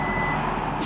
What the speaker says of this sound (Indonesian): Dan sudah ada parking sensor 4 titik.